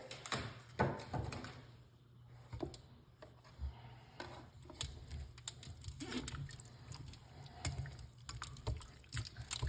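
Grapes swished and tossed by hand in a small bowl of water while being washed, giving irregular splashy clicks and sloshes close by, steady throughout with no talking.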